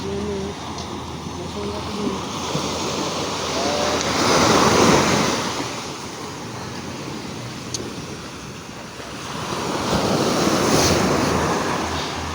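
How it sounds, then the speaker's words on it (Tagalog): Continuous roar of big waves rolling and breaking in two surges, heavy wind buffeting the microphone, no clear talking. "Parang nalaki ang alon."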